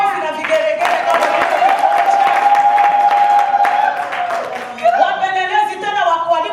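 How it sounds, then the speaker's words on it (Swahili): A church congregation claps and ululates together in a loud, sustained burst, with a high trilling ululation running for a few seconds over the clapping before voices return. "Piga makofi na vigelegele"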